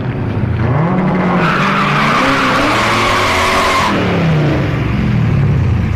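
At an Orlando Speed World drag strip, a turbocharged BMW lines up against a Honda Civic wagon, engines roaring and revving loudly alongside sustained tire squeal that peaks midway through, with no talking.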